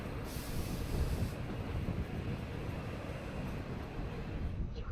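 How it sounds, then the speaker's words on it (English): Train traffic at Warsaw Eastern station in Poland, a steady loud rumble of rolling rail cars with broadband hiss, continuous throughout with no talk. "take a closer look at some of the other train traffic at the station"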